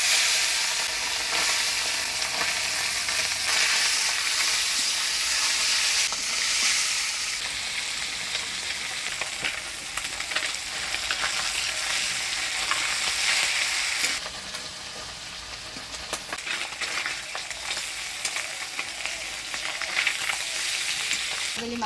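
Bajali fish fry in a pan in a Bengali village kitchen, giving a loud, continuous sizzle with stirring scrapes mixed in, easing slightly in the second half.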